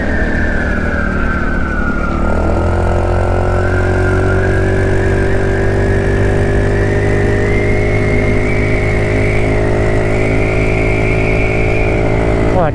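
A GY6 150cc scooter with a loose, failing exhaust rides slowly over bumpy road, its engine droning steadily loud and near, the pitch dipping briefly and then climbing gradually as it rolls on.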